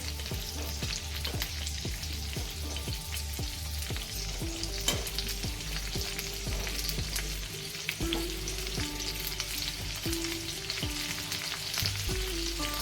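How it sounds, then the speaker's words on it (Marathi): Stuffed okra fries in hot oil in a pan over medium heat, giving a steady, dense sizzle with continuous crackle and spatter throughout, close up and without any talking. "आपल्याला ना भेंडी मीडियम गॅसवर मस्त फ्राय करून घ्यायची"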